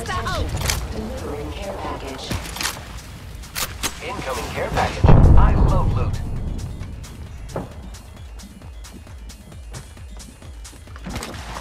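Video game battle with scattered gunshots and a heavy artillery-like boom midway, rumbling and fading, under someone talking.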